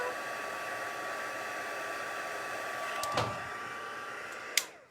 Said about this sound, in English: pull in our heat tool. Give it just a second to warm up.